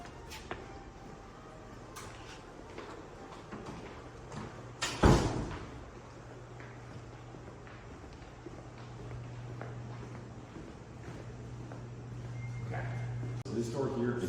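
An after-hours building door unlocks with a single sharp metallic clack, then a low hum runs steadily underneath as the door is opened. Faint room noise and light taps surround it.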